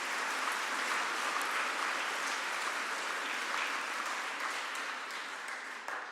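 Audience applause at the closing plenary of the Oxford Real Farming Conference 2019, a dense, steady wash of many hands clapping from a large crowd, sustained throughout and tapering slightly near the end.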